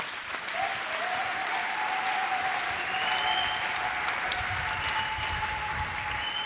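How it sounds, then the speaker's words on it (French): A church congregation applauds steadily during a mass prayer service, a dense, continuous wash of clapping from many hands with a sustained sung or voiced tone running beneath it. "Allez, mets-toi debout. Acclamons pour le Seigneur."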